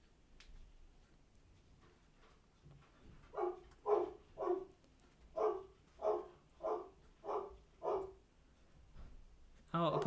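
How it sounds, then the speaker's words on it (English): A dog barks about eight times in a steady rhythmic series, fairly close and clear against a quiet room, followed by one more sharp bark at the end. "apologies for my dog"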